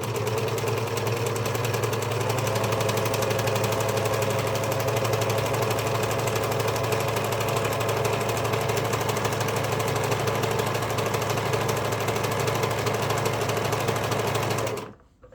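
A sewing machine runs continuously, stitching knit fabric with very short stitches for a lettuce hem, a loud, close, rapid mechanical whir and chatter that stops abruptly at the end.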